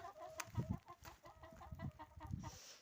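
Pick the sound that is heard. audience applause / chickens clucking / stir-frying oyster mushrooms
chickens clucking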